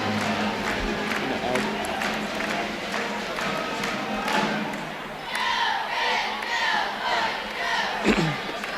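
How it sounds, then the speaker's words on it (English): Fans at a high school junior varsity boys basketball game stand, clap and cheer, a dense continuous crowd roar with scattered claps and shouts filling the gym, voices mixed in throughout. "You can definitely see all of most of the fans are standing up, clapping, because it's a very great game."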